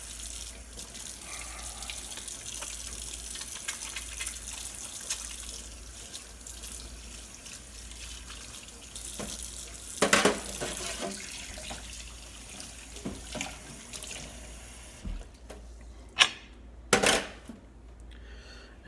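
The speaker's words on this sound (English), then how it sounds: "Now, once again, we have to wash our hands" A kitchen tap runs steadily while hands are washed after prepping steaks with garlic, a continuous close hiss of water with splashes, clunks and a final burst near the end as the flow is handled.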